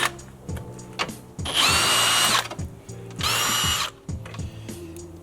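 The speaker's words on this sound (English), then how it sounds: "So we're gonna go ahead and remove these 10mm bolts on top." Power drill spinning out 10mm bolts on top of a 2014-2019 Chevy Silverado 1500 front bumper: two loud, sustained whirring bursts with ratcheting clicks and metallic handling noises between them.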